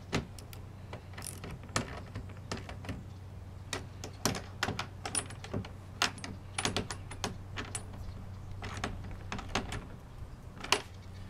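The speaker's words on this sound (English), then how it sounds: "These are 7/16, so I've got a 7/16 wrench and a socket" A 7/16 wrench and socket tighten bolts while an AeroBox cargo carrier is installed, making irregular, fairly close metallic clicks and ratchet ticks with short pauses and no talk.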